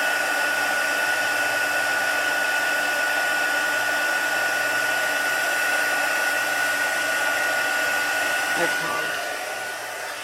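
A heat gun blows with a constant loud whir for ten seconds, melting embossing powder on a watercolour card during heat embossing. A single short word is spoken near the end.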